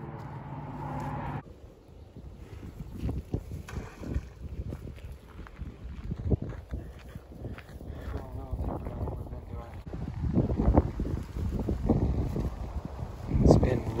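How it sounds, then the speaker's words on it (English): Steady low wind rumble buffets the microphone outdoors, rising in gusts toward the end, with faint voices and water movement underneath. "It's been windy all day."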